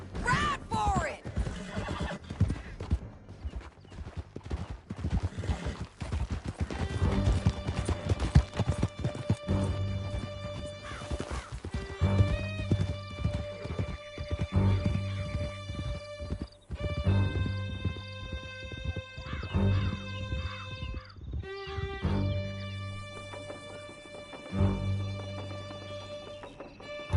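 Horses gallop hard through a canyon in Red Dead Redemption 2, their hooves clopping steadily under dramatic orchestral music, with whinnies and scattered crashes along the way.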